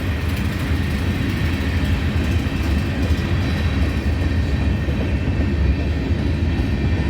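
Freight train of bulkhead flat cars rolling steadily past at close range, a continuous heavy rumble with faint rhythmic clatter from the wheels and no voices.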